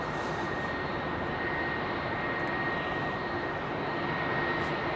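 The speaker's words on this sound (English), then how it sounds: "there was your Oman Air 787" An Oman Air Boeing 787 passes with a loud, steady jet engine roar, a broad continuous rumble with a faint whine on top, holding level throughout.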